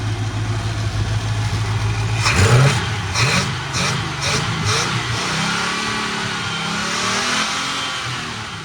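A Chevrolet 350 V8 in an El Camino idles with a low rumble, then revs in several sharp bursts before settling back to a steady, loud idle.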